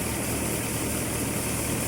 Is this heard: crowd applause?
no